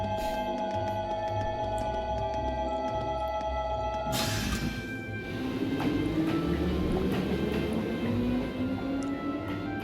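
Train in the video game Trails of Cold Steel: a steady low rumble with a sustained tone, then a sudden noisy shift and rising pitched whine as the train gets moving, continuous and moderately loud.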